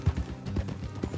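Horse hooves clip-clop on a road in the video game Red Dead Redemption 2, a short run of close, uneven thuds from horses being ridden to a stop.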